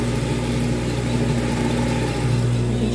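Sewing machine stitching the hem of a child's dress sleeve, a steady close whirring motor hum with a continuous mechanical drone, no talk.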